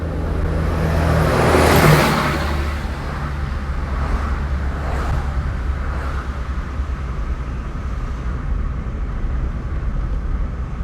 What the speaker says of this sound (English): So a lot of big units drive on Spur-Tree.